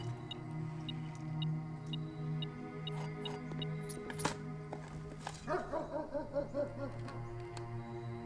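A dog barks in a short run of yips and bow-wows near the end, following a stretch of quiet tonal background sounds.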